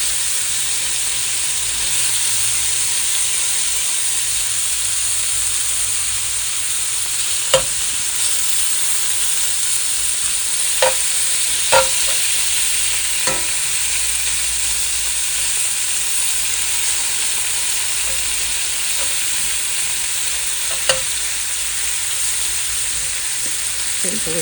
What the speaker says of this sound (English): So as you can see, my bacon is getting nice and crispy.